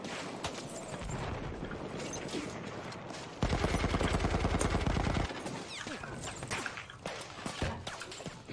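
Rapid automatic gunfire from a Battlefield 1 match rattles in a dense, steady burst midway through. Scattered shots and mechanical clatter surround it at a distance.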